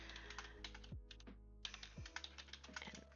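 Keys clatter on a computer keyboard in quick, uneven bursts of close, soft clicks, with one brief pause partway through and no talking.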